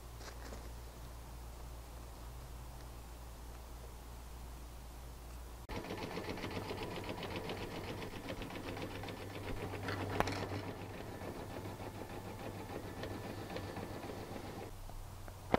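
Embroidery machine stitching a football design onto blue fleece with stabilizer for coasters, a steady mechanical whir with rapid needle patter that grows louder partway through and runs continuously.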